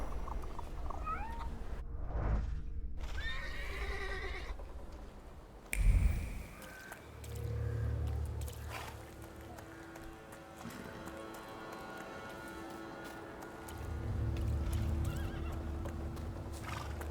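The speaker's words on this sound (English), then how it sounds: "I meant to take the horse out for a ride" A horse in The Thaumaturge video game whinnies and snorts, with hooves clip-clopping in steady rhythm across the ground at moderate distance, quiet and unaccompanied by talk.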